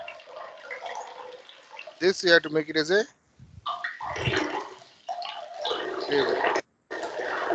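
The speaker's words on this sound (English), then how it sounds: "water sound is coming" Water runs and splashes in the background while someone talks, coming through in uneven bursts with brief gaps of near silence.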